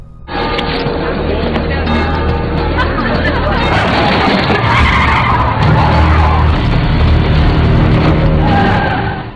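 In a film scene, a car speeds hard and skids with screeching tires, a loud, sustained roar and squeal layered with music and crowd-like babble, cutting off abruptly near the end.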